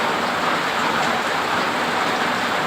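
Heavy rain pours down steadily, a dense, loud hiss filling the whole clip with no talking.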